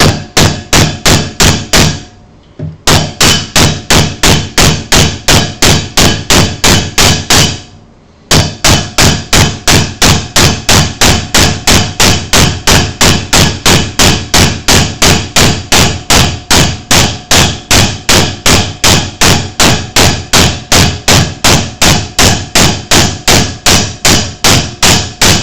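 Steady, loud hammer blows drive a wooden dowel through a steel dowel plate to size it down to 1/2 inch, a fast regular rhythm of sharp strikes broken by two brief pauses.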